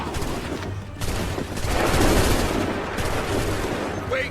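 A line of muskets fires a volley in Assassin's Creed 3, a dense rolling crackle of overlapping gunshots that swells and lingers with battlefield rumble, with no clear talking.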